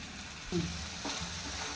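A paste of tomato, coconut, poppy seeds and cashews hits hot oil with golden fried onions for a soya chunks curry, giving a sudden sizzle, then a steady, quiet frying hiss with a stir.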